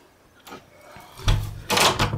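A household drawer sliding open or shut indoors, in two soft bursts: a faint scrape, then a louder rolling thud and a final knock, with no talking.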